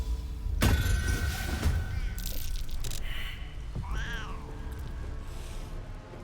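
A cat meows in the video game Baldur's Gate 3, a rising-and-falling call heard amid thuds, crashes and other game sounds, moderately loud within a busy mix.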